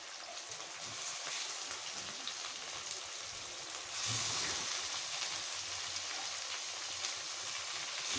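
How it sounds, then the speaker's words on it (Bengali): Kosha mangsho, meat being sautéed in a pan at home, gives a steady, dense hiss and crackle that swells louder about halfway through, with no voices. "এদিকে মাংস কষা হচ্ছে আর বাপি রান্না করছে"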